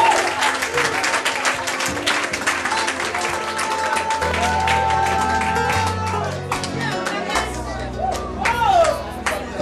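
A church congregation at a live worship service applauds and cheers for Jesus, dense sustained clapping with shouting voices mixed over held musical tones, loud and continuous throughout.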